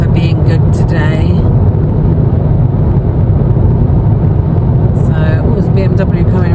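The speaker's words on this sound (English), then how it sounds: "there's BMW coming right up my backside really fast" A BMW car roars up quickly from behind on the road, a loud, steady engine and tyre rush heard from inside a moving vehicle, with a few brief sharp clicks near the start and end.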